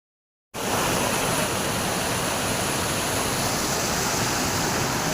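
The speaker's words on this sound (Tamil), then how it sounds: "நம்ம பெரிய மலை ஹைட்டில் இருக்குது, மலை தண்ணி ஊற்றுது" Jogini waterfall near Manali pours down a high mountainside in heavy rain: after a brief silence, a loud, steady, broadband rush of falling water fills everything, unbroken and close.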